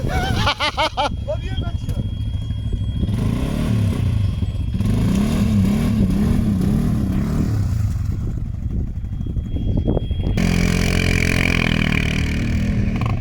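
An ATV 4x4 at an off-road jeep festival, its engine revving loud and continuous in mud, rising and falling, while people shout encouragement over the roar.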